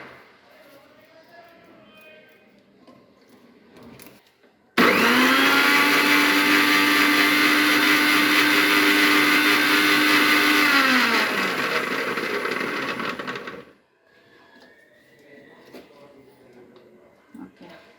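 An electric kitchen mixer grinds bottle gourd chutney, a loud steady whirring run lasting about nine seconds that winds down at the end, with talk in Telugu before and after it.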